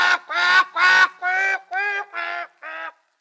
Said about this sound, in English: he could hear the duck quietly quacking inside the wolf